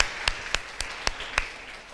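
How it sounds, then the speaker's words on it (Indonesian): At a Sunday church service, a few close, sharp hand claps for the children ring out in a slow, even rhythm, six distinct claps spaced roughly a quarter second apart over a quiet background. "Kita beri tepuk tangan untuk anak-anak kita sekali lagi"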